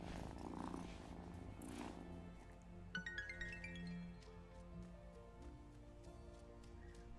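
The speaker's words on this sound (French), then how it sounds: "il y a un petit chat" Small cat purring in the video game Wylde Flowers, a soft continuous low rumble with game music tones layered over it, steady throughout and fairly quiet.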